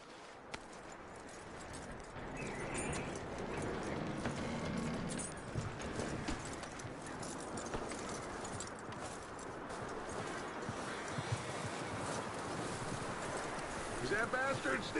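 Horse hooves clip-clop steadily in Red Dead Redemption 2, a continuous rhythmic trot close by with tack jingling and an occasional whinny, under spoken dialogue.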